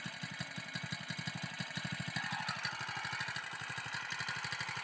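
Small engine of a grass-cutting machine running close by, a fast, even chugging putter at idle that picks up slightly in speed partway through, quiet overall and with no talking.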